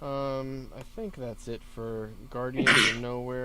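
A sharp sneeze bursts out near the end, loud and close, right after someone speaks.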